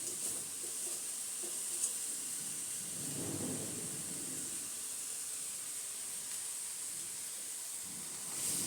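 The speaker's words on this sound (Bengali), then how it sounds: "এখন আমি একটু একটু করে এগুলো ভাজবো, একটু সময় নেবে।" Semai vermicelli frying in a pan for a homemade jorda dessert, a steady soft sizzle and hiss running throughout, with a brief rustle of stirring midway.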